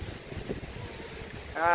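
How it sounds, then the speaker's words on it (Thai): Strong wind blows outdoors in gusts, a steady rumbling rush that buffets the microphone, with a voice briefly rising near the end. "แล้วคือลมแท้นี่เนาะ"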